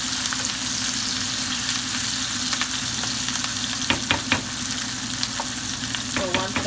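Ackee and saltfish cooking in a pan with thyme, a steady close sizzle running throughout with occasional clicks of stirring near the end.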